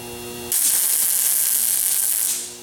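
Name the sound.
welding filler rod into gaps on a steel mace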